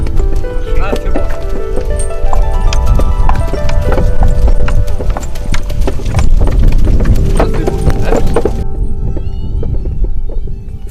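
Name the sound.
Breton horse hooves clip-clopping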